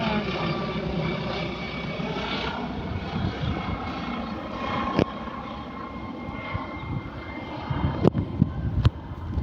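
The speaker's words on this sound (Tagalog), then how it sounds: "There is a helicopter also." A helicopter passes overhead at a park, a steady droning engine rumble that continues throughout at moderate distance. A few sharp clicks and knocks from nearby handling sound out near the end.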